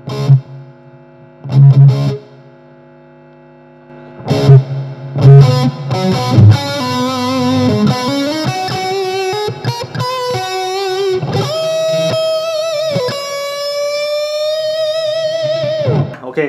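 Electric guitar played through a NUX Mighty Amp with a touch of reverb added, a few picked notes and chords ringing out, then sustained melodic lines with long reverberant tails, loud and close.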